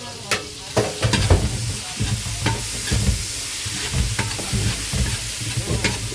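Onions and tomatoes fry in a pan while being stirred, a steady close sizzle broken by repeated scraping strokes of the spoon at an uneven rhythm, with no talking.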